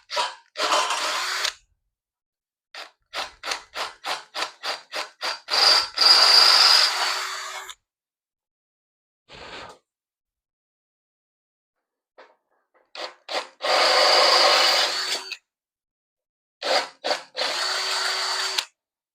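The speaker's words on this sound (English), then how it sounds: "So we're going to drill the driver's side out first." Power drill boring into the front filler panel of a 1969 Chevelle, with a string of short quick bursts followed by longer sustained drilling runs and quiet pauses between, close and fairly loud.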